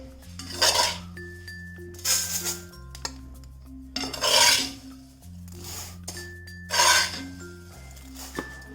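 Avalose mix of roasted rice flour and coconut being scraped from a cast iron pan onto a flat plate, heard as four rasping, clinking bursts of metal on metal at a steady rhythm, close and fairly quiet, with no talking.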